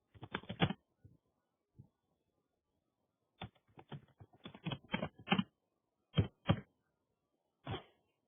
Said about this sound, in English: Typing all this out.